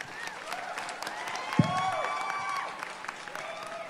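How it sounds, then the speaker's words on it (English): Audience applause for contestant Maya on a singing competition show, steady clapping from a crowd with scattered whistles and cheers, of moderate loudness throughout. "please give Maya a round of applause"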